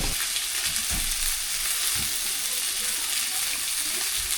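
A rump steak fries in a pan, giving a steady, close crackling sizzle throughout with a few soft clatters of stirring or turning.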